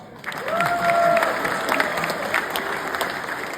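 A comedy club crowd bursts into applause, sustained clapping that swells after a brief quiet start, with scattered whoops and voices threaded through it.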